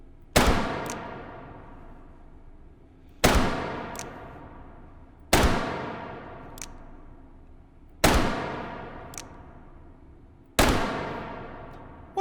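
Five loud revolver gunshots in the VR shooting game H3VR, evenly spaced about every two and a half seconds, each a sharp crack with a long ringing decay before the next shot.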